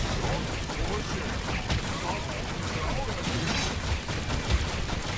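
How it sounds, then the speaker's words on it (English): Constant barrage of explosions and gunfire-like blasts in Orcs Must Die: Unchained, dense and loud throughout with occasional sharper bursts and faint talk underneath. "Apparently everything is exploding in this game."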